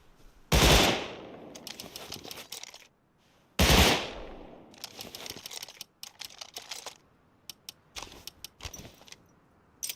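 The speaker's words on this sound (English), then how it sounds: "and we have burst fire." Bursts of gunfire from a Prototype 17 in the Rust console video game: two loud bursts of rapid shots, each followed by trailing clicks, rattles and shorter scattered pops, with no talk.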